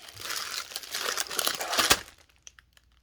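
Close, busy crinkling of plastic packaging around silicone stretch bowl covers, loud handling for about two seconds that ends abruptly, followed by near silence with a few faint ticks.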